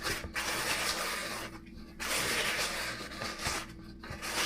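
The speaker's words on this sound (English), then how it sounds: "I'll put this back real quick and scrape my bowl down" A spatula scrapes down the sides of a mixing bowl of brown butter snickerdoodle cookie dough. The strokes come as repeated close, dry scrapes with short pauses between them.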